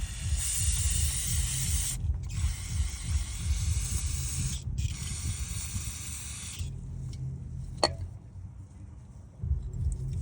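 Brake cleaner sprays onto the rear brake of a 2007 Honda Accord in three loud, sustained hissing bursts, separated by short gaps, followed by quieter handling sounds and a single sharp click.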